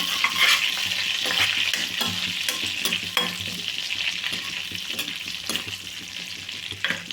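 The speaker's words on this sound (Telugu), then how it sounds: "ఇదిగోండి ఒకటి బిర్యానీ లీఫ్ అయితే వేసుకుంటున్నానండి చిన్న ముక్క ఒకటి సరిపోతుంది లైట్గా వేగాలండి" A small piece of biryani bay leaf fries lightly in hot oil for a hotel-style paneer butter masala curry, giving a continuous close sizzling hiss with scattered crackles and stirring scrapes throughout.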